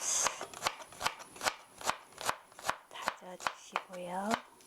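Garlic cloves minced with a knife on a cutting board for japchae, heard as a steady series of sharp, close chopping taps at a fast even rhythm, with brief voice sounds between strokes.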